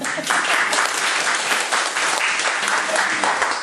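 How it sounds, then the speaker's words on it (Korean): A Korean church congregation at an evening service applauds fellow members, with dense, continuous clapping from many hands, loud and close, lasting the whole stretch. "이분들 위해서 박수 쳐주기 바랍니다"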